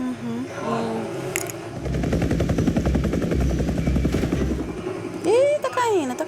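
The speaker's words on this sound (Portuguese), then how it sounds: "Helicóptero." A helicopter's rapid rotor chop thuds steadily in the middle, with talking and a rising whistle-like tone near the start and end.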